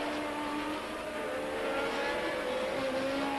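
Formula One race cars at the 1979 Canadian Grand Prix scream past with high, whining engine notes that rise and overlap, forming a continuous loud racing roar.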